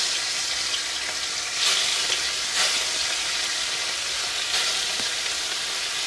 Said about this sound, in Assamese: মাছ কেৰাহীত দি দিছোঁ।